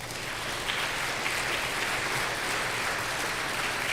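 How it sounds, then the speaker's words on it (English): Steady, dense clapping from a crowd at a vigil, evenly sustained throughout with no pauses, heard at a moderate distance. "Please bring applause to them"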